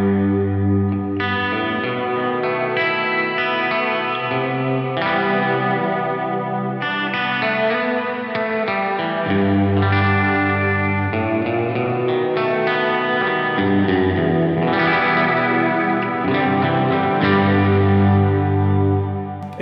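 Electric guitar played through an EarthQuaker Devices Rainbow Machine modulation pedal, sustained chords and melodic notes shimmering with a warbling, echoing chorus-like effect over about twenty seconds, alone without talk.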